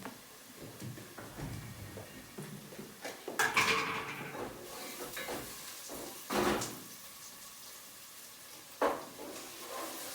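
A kitchen cupboard door opens with a clack, followed by rummaging and knocks of jars and dishes while taking out paste for cooking, then another sharp bump later.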